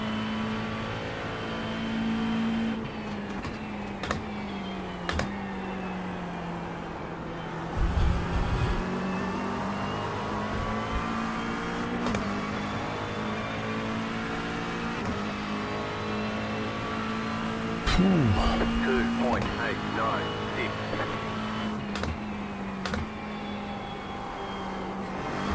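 McLaren race car in iRacing at Sebring: a close, continuous engine roar on track, climbing in pitch through each gear and dropping sharply at braking points and downshifts, with no one talking.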